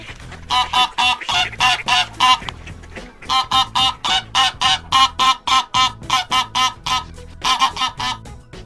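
Goose honking in a rapid series of loud, nasal calls, repeated in bursts with brief pauses between them, close and clear with no voices.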